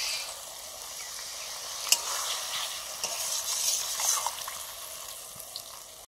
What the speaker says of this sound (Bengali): রেড চিলি পাউডার, মশলাটা একটু জল দিয়ে কষে নেব।